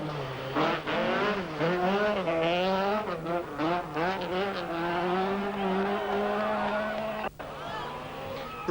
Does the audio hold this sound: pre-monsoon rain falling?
no